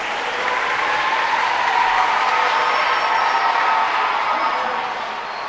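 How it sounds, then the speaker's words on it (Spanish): Loud, sustained applause from a concert audience at an educational Renaissance-themed music concert in Santo Domingo, a dense wash of clapping that holds steady for about five seconds before easing slightly at the end. "dale un aplauso fuerte dominicano"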